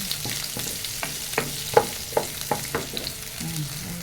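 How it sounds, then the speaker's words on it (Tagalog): Onion and garlic sautéing in a pan, a steady sizzle with a spoon stirring in regular scraping strokes and a few light taps against the pan. "haluin lang ng haluin ang ating sibuyas at bawang para hindi masunog"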